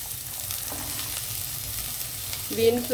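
Carrots and beans frying with onions in a pan for chickpea pulao, an even close sizzle with a brief stir near the end.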